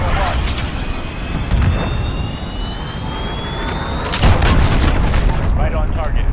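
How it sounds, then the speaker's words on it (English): An allied cruise missile streaks in with a jet-like whine and strikes with booming explosions during a Modern Warfare Headquarters 10v10 match, mixed with gunfire and game voice callouts. "Allied cruise missile on right."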